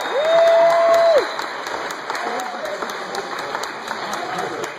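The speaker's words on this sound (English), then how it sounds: "So round of applause for Something's Over Hype." Audience applause after a film screening, for the cast and crew of the short film Two Bellmen, with steady clapping under a brief tone at the start.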